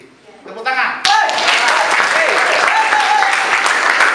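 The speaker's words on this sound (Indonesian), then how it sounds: "Tepuk tangan." Classroom applause breaks out as a group of students claps their hands together, a dense, steady burst that starts suddenly and carries on loudly after a brief moment of voices beforehand.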